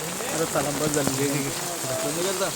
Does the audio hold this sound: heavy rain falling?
yes